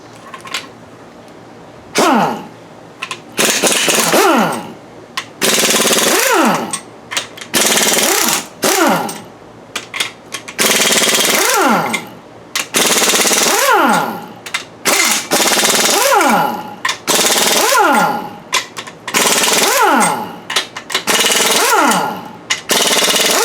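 Bolts are loosened on a Chevy 5.3 engine during a rebuild with an impact gun, firing in repeated loud, short rattling bursts separated by brief pauses, close by, with no talking.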